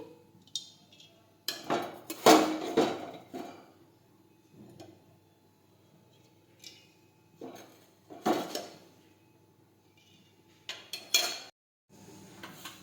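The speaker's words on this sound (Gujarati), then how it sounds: "હવે આપણે વઘારવા માટે તેલ છે તે ગરમ કરવા મૂકીશું।" A pan set down on a home kitchen stove to heat oil for tempering boiled rice, giving a few close metallic knocks and clatters in separate bursts with quiet gaps between, and no talking.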